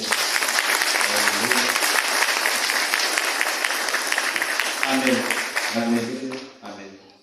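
A church congregation bursts into sustained applause, dense steady clapping filling the space for several seconds before tapering off, with voices rising over it near the end.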